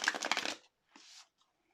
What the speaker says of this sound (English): Just let me shuffle the deck like another one time.